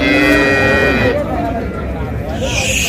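Cattle at the traditional Raniganj livestock market in Dinajpur, with improved dairy cows and calves for sale; a cow moos amid dense crowd chatter and market bustle, steady and fairly loud throughout.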